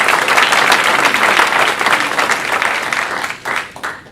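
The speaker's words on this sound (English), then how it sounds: "Let's give Stacey a round of applause" A loud round of applause from an audience at a community event, steady dense clapping that thins out toward the end.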